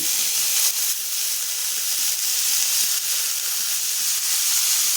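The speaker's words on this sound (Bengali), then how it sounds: "এখন এই তেলেই সমস্ত সবজিগুলো দিয়ে দিচ্ছি দিয়ে দিচ্ছি গাজর দিচ্ছি বিনস" Carrots and beans fry in hot oil in a pan, giving a steady, bright sizzle and hiss that runs unbroken and close, with faint clinks of stirring beneath it.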